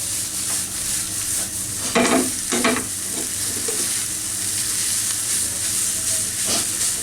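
Boiled noodles for chicken chow mein stir-fried by a restaurant cook in a small wok, with constant close sizzling and a few sharp scraping clatters of the spatula against the pan, without voices.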